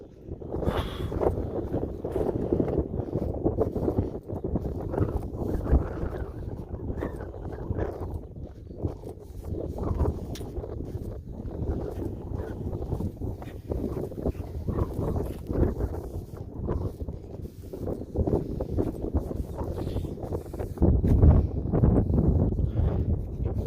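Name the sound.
strong wind blowing during an outdoor walk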